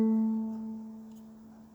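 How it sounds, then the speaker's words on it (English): A lower-pitched ukulele gives one plucked note or chord that rings out clearly and slowly fades. "on this ukulele it sounds like this"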